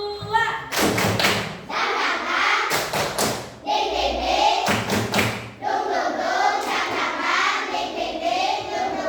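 A classroom of children in Indonesia performs a rhythmic spirit clap, with bursts of hand claps and thumps in a set pattern and young voices chanting along between the claps.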